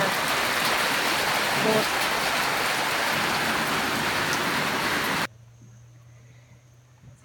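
Heavy rain pours down in a garden during a very wet summer, a dense, loud, continuous hiss of drops that cuts off abruptly, leaving a quiet background with a low hum; a voice says a single word.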